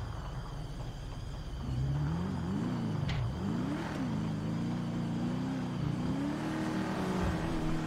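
A car engine in a GTA video game drones and revs steadily, its pitch swelling and dipping as it accelerates, loud and close with a sharp knock partway through and no talk.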